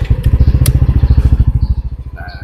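A motorcycle engine with a newly fitted grounding cable idles close and loud, its deep exhaust thumping at a rapid, even beat that eases slightly near the end, with light mechanical ticking over the pulses.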